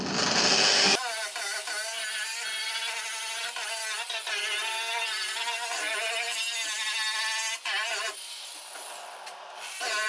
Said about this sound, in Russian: Коралловый круг, он металл не портит, он только счищает лакокрашенное покрытие.